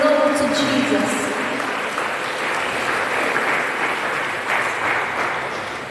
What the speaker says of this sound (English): Put your hands together tonight as we welcome the worship team tonight